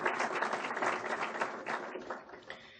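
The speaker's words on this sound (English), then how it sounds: "So let's give them a round of applause for their generous donation." Audience at a superintendent's foundation breakfast applauding donors, a steady dense round of clapping from a room full of people that tapers gradually toward the end.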